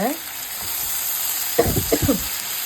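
Tomato pieces sauté in a pan with ridge gourd and asafoetida, giving a steady close sizzle with a few louder stirring clatters near the end.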